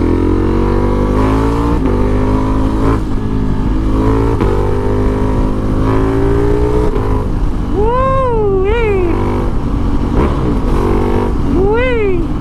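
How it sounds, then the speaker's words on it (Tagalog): A motorcycle engine fitted with an aftermarket Akrapovic exhaust drones loudly and steadily nearby, its pitch rising and falling with throttle blips. "Kahit papaano nagkaroon ng tunog yung motor ko dahil sa Acra"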